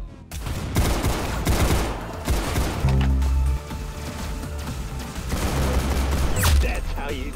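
Rapid bursts of gunfire from the Roblox game Arsenal crackle and thud in quick volleys, with excited voices talking over the shooting.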